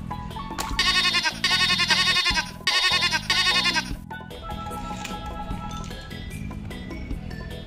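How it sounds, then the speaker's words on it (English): A goat bleats in a run of long, loud, wavering calls close up, followed by quieter farmyard noise. "Goat."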